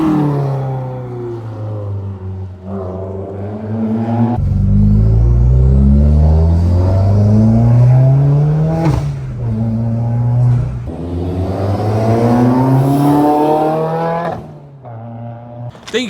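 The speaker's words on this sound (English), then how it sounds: "Yeah, I love the turbo noises." A built Subaru WRX turbo engine revs and pulls on a closed road in Mexico, giving a loud, deep engine roar that climbs in pitch through the gears over distinct turbo whooshes, heard close up.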